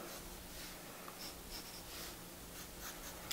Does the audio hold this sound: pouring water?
no